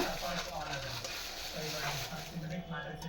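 Cumin seeds sizzling in hot oil beside turmeric while a gourd snack cooks, a close, steady crackling fry with stirring scrapes, someone talking over it throughout.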